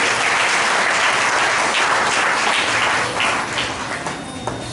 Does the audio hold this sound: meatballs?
no